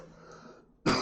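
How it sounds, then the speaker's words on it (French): A single loud, rasping cough bursts out close up from someone with flu-like symptoms, following a quiet stretch of low background hum. "M'arrête pas de tousser, ça me gratte là."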